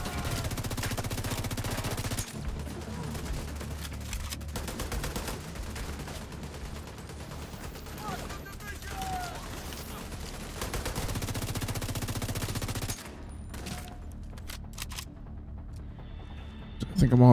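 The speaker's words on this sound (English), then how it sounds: "the guy apparently shooting shotgun pellets at me" Enemy shotgun fire in the shooter game The Division 2, a dense, steady burst of gunfire layered over game music and effects, loud through most of the stretch before dropping off abruptly near the end.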